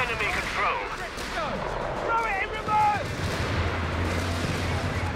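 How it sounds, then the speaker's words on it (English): Gunfire rattling against a building in Company of Heroes 3, short bursts of shots under chattering in-game soldier voices and bird-like whistles, followed by a low steady engine hum near the end. "Shooting the building."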